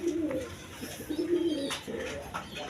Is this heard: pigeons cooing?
yes